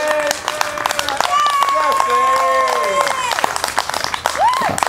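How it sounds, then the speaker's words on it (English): Spectators in the West Stand at a village cricket match at Outwood clap in a scattered round of applause, heard under a commentator's steady talk close by. "That's a big round of applause from the West Stand here at Outwood"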